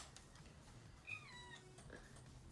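A cat meows indoors, a soft, short call near the middle followed by a fainter second meow, heard alone against a quiet room.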